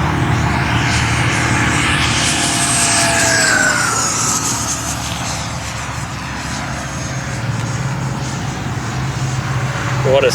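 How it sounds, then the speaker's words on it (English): A radio-controlled EDF model jet airplane roars steadily overhead at an RC flying field, a loud sustained ducted-fan whine with pitch sweeping as it passes, while people talk beneath it. "What a stable airplane"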